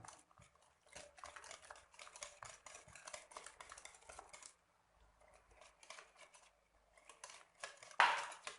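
Eggs being mixed into lemon cake batter in a bowl, with a steady run of soft scraping and clinking strokes that pause midway, then a sharper clatter at the end; no talking.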